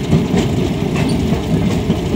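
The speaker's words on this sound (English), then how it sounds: "the engineer pushed the drive lever into reverse and whistled for a stop." Train cars behind an 1860 steam locomotive roll along the track with a steady, loud low rumble and faint rhythmic clatter, close by with no talking.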